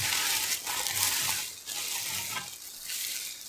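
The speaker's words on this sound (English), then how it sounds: "Let's pour the water in" Water is poured onto Cheetos in a prison-style recipe, a close, continuous splashing pour with bright hissing texture that surges and eases in several waves.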